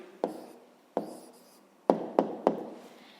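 Pen or pencil writing an answer by hand during a fifth-grade math exercise, heard as five sharp taps or strokes, each fading quickly, in quiet surroundings with no talk.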